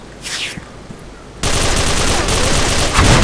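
Rapid automatic gunfire erupts loud and continuous in the Special Force 2 online shooter, following a quieter stretch with a brief sharp noise.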